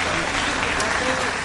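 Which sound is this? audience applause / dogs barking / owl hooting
audience applause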